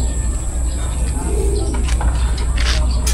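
Racing pigeons cooing at a training toss loading site in Pagsanjan, Laguna, soft repeated coos close by over a steady outdoor hum, with people talking in the background.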